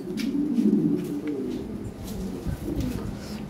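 A pair of blue Wallace Lahore pigeons cooing close by: repeated low, throaty rolling coos one after another, with some rustling and faint chirps in the background.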